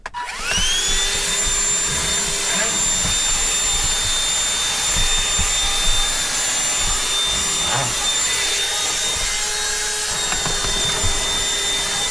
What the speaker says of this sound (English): I think I'm going to need a bit of a hoover down there.